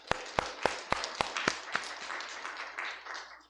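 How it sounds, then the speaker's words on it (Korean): A congregation at a New Year's Eve midnight church service claps in a slow, loud unison rhythm of about eight sharp beats that then loosens into scattered, fading applause. "하나님 앞에 영광의 박수 한번 치겠습니다"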